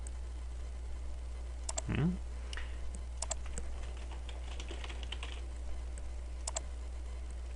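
Several bursts of computer keyboard typing as a password is entered, quick close key clicks separated by short pauses over a steady low background hum.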